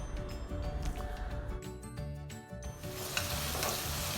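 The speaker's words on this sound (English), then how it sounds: "Now add the onions and let them turn golden brown." Onions sizzle and fry in hot oil in a pan on a high flame, a steady close crackling hiss with some stirring noise that swells toward the end, no talking.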